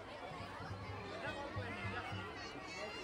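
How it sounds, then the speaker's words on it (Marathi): Dense crowd chatter fills a large, busy public park, a steady murmur of many overlapping voices with bits of laughter, heard at a distance and fairly faint. "खूप गर्दी आहे, खूप गर्दी आहे"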